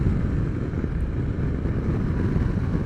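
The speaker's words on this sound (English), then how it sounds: "your average Tenere 700 rider is not going to be riding their bike like this" A 2022 Yamaha Tenere 700 adventure motorcycle is ridden hard: a dense, loud, steady rumble mixed with wind buffeting runs throughout, with no voices.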